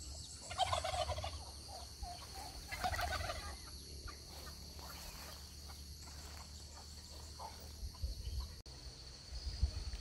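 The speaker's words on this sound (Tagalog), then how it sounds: "dyan yung mga manok, pabo" Turkeys gobble on a mountain farm amid chickens and a quail farm, giving a few loud bursts over a steady bed of insect chirping and outdoor hiss.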